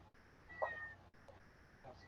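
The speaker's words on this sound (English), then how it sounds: "Give me 2 seconds to get this cat to stop crying at me." A house cat meows once, a short, fairly close cry over faint room noise, with no speech.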